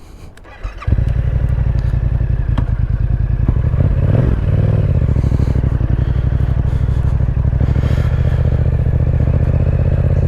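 A Yamaha MT-07 motorcycle fitted with a Puig windshield starts up after a brief quiet moment and pulls away, its engine a loud, steady, close rumble for the rest of the run.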